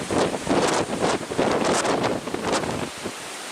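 Strong wind buffets the microphone on a Lake Superior shoreline at Pictured Rocks, Michigan, a loud rushing roar in gusts that swell and ebb, with no voices.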